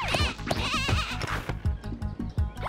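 Lamb bleating in a Thai kids' cartoon, a string of quick loud bleats with bouncy rhythmic music underneath.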